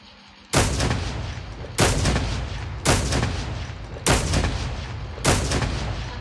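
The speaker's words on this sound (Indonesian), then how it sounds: "Tembak aja deh sampai meledak" Heavy gunfire aimed at a helicopter in the Call of Duty video game: five loud, booming shots, each with a long decaying tail, spaced about a second apart after a quiet start.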